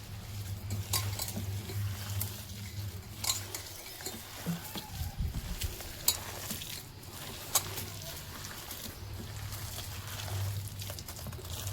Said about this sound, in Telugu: ఇది బాగా అన్నీ కలిసేలాగా ఇలాగా బాగా కలుపుకోవాలి.